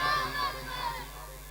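Gathered crowd at a religious mahfil gathering loudly chanting back a Naara-e-Takbeer slogan response, a swelling unified shout that carries forward and then eases off.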